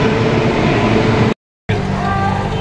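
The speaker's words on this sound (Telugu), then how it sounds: "కోయంబత్తూర్కి వెళ్ళే ట్రైన్ వచ్చేసిందండి" A train bound for Coimbatore pulls into a station, giving a loud, steady rumble of rolling carriages with a brief complete dropout partway through.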